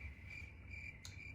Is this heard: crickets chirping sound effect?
yes